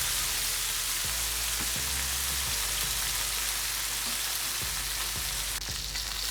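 Loud, steady sizzle of a steak searing in a hot pan, with a few low thumps and clatters breaking through the constant crackle.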